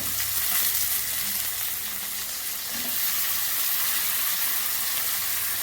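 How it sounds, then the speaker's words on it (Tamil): Chopped brinjal sautés in a pan with onion and tomato for a Tamil kara kuzhambu, giving a steady, soft sizzle and hiss with faint stirring scrapes throughout, no voices. "கத்திரிக்காய் சேர்த்து நல்லா வதக்கிக்கோங்க"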